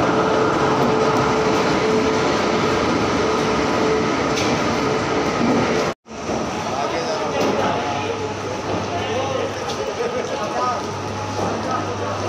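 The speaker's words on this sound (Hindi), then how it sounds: "इलेक्ट्रिक मोड लोकोमोटिव के साथ आनंद विहार से बलिया तक चलेगी" An Indian Railways superfast express hauled by an electric locomotive rumbles along at speed, a loud continuous roar with wheel clatter and a brief dropout midway, a voice talking over it.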